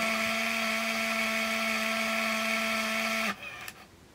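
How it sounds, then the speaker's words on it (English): An Olympus Infinity Stylus Zoom 115 DLX 35mm film camera motor rewinds film with a steady, high whirring whine for about three seconds, then abruptly cuts out, followed by a faint click and low residual noise. "we'll hear the film break free of the take-up spool and make sure it's ready"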